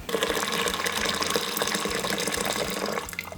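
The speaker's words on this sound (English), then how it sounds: "I have pre-boiled 6 cups of water. I'm gonna put it in here." Pre-boiled water pours steadily from a container into an Instant Pot holding beans, a continuous close, full-bodied gushing splash that runs for about three seconds before tapering off, with no talking.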